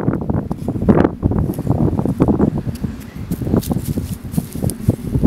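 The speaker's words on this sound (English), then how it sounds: "It's so windy." Strong wind buffets the microphone in irregular loud gusts on an exposed ridge of a rural property with contour swales, with faint rustling and footsteps beneath.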